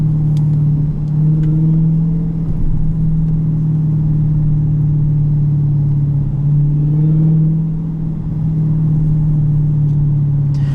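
A 2020 Dodge Challenger Hellcat engine rumbles steadily, its low growl rising and falling as it revs, close and loud with no voices, with exhaust backfires.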